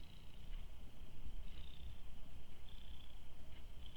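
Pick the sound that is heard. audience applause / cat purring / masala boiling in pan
cat purring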